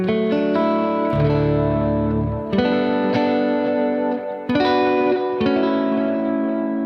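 Clean electric guitar played through an Orange OR120 amp preset on a Helix Stadium rings out in sustained chords and single notes, loud and close, with a few separate strums and long decays, no talking.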